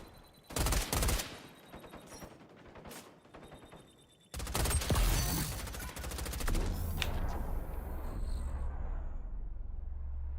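Automatic assault rifle–SMG hybrid gunfire in the online shooter XDefiant, with loud rapid bursts, a brief lull, then sustained heavy firing over a low rumble.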